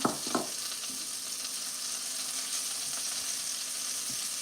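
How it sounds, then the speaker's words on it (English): Vegetables sautéing in olive oil in a pan for beef and barley soup, a steady soft sizzle after a couple of quick clacks at the start, close and uninterrupted by speech. "we're gonna saute our veggies in there as well"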